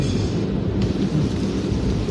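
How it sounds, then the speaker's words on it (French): A dense, roaring wash of heavy rain with a deep low rumble underneath, steady and loud throughout. "Quand il pleut beaucoup comme ça"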